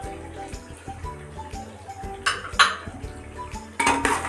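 A spoon stirs a spoonful of salt into chicken biryani in a pot, making close metallic clinks and scrapes in an irregular rhythm over a low background hum.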